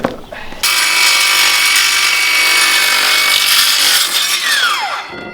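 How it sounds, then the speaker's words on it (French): A battery-powered circular saw cuts a board of James Hardie composite siding. After a short start it whines loudly and steadily through the cut, then spins down with a falling pitch at the end. "ce qui est pratique avec notre scie circulaire, c'est qu'elle est sur batterie"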